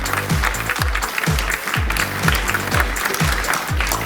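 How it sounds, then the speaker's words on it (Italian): Applause from an audience at an outdoor beauty pageant on a rainy evening, a steady wash of clapping with rhythmic low thumps pulsing beneath it at regular intervals. "grazie per l'applauso spontaneo"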